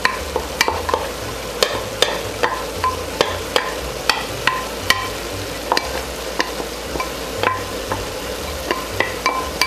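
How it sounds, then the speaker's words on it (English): Cubed white sweet onion, celery and carrot sautéing in a pan, a steady close sizzle broken by frequent sharp scrapes and taps of a utensil stirring the vegetables, with no voices. "And you're going to saute that for about 4 or 5 minutes."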